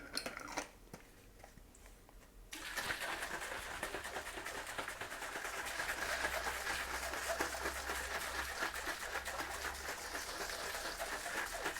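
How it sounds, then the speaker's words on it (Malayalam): A sherbet drink sloshes and rattles steadily inside a closed container, a continuous fizzy shaking that starts abruptly after a quiet moment and keeps going. "പെട്ടെന്ന് തന്നെ മൂടിയിട്ട് നന്നായിട്ട് കുലുക്കിയെടുക്കണം"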